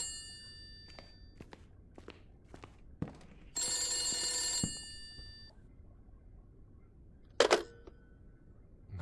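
An old-style telephone bell rings once in a sustained metallic trill inside The Beast Inside video game, amid scattered footsteps and clicks, followed later by a short second ring burst.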